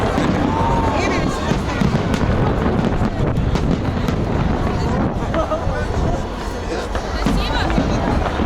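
New Year fireworks salute over Zaryadye in Moscow booms and crackles continuously through wind-buffeted outdoor noise, with a crowd's voices mixed in throughout.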